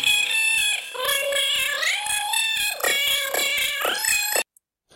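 A human voice raised sharply in pitch with a chipmunk-style effect in Audacity, a continuous high, squeaky stream of syllables for about four seconds before cutting to silence.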